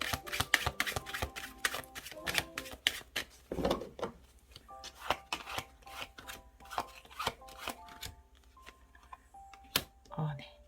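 A deck of tarot cards is shuffled and drawn, giving quick riffling flicks and soft slaps in bursts, close by, with a voice speaking over the card handling.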